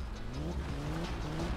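A BMW E30 engine in the video game My Summer Car, revving loudly with a rising and falling drone as it drops to first gear, close and continuous, with a tire squeal.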